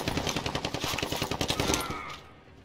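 Rapid automatic gunfire in a first-person shooter video game, a tight rattling burst of about a dozen shots close and loud, ending abruptly and fading out.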